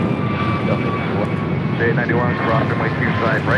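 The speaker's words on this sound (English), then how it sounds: "This takeoff is American Airlines 1537 headed out to Miami, Florida on an A321neo." An American Airlines Airbus A321neo takes off at LAX, a broad, steady jet roar filling the whole clip, while air traffic radio chatter and voices talk over it.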